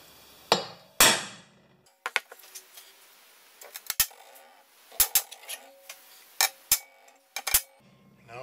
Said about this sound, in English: I'm just doing the center punches for the holes for the